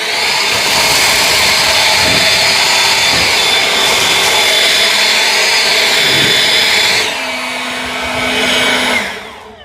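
An EGO Power+ LB7650 cordless leaf blower on turbo setting, a loud close high-pitched whine with a steady rushing roar, which drops in pitch toward the end and then cuts off.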